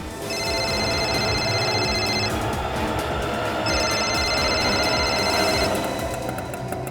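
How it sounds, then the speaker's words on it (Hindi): A telephone rings with an incoming call in a crime drama scene, two long bursts of bright electronic trilling separated by a short pause, loud and close with no talk over it. "क्यों फोन कर रहा है मुझे?"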